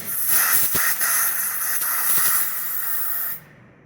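Compressed air blasting brake cleaner off a Subaru Forester brake caliper in a steady loud hiss lasting a few seconds, then cutting off abruptly.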